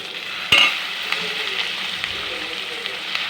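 Curry leaves and small tender brinjals fry in hot oil on top of fried onions. A sharp crackling burst starts the sizzle, then a steady bright hiss follows with stirring, close up.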